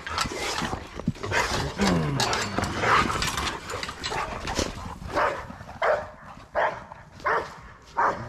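Dogs let out in the morning barking and yelping, a busy overlapping chorus at first that thins to separate loud barks spaced a second or so apart, close by.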